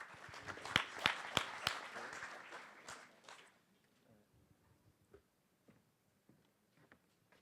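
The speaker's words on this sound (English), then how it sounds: "Let's give him a round of applause." Audience applause at the Africa Innovate business plan competition: a few seconds of scattered, fairly faint clapping with some sharper close claps, dying away into near silence with only stray claps left.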